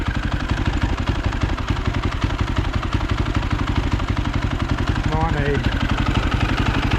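A small engine on a bargain machine idling too high, a steady fast mechanical chug with clattering valves, running loud and close throughout, with a brief voice over it near the end.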